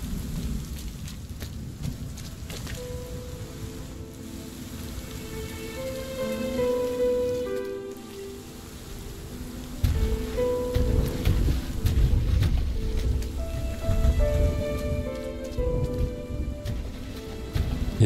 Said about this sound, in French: Il y a des moments où j'entends moins fort la pluie.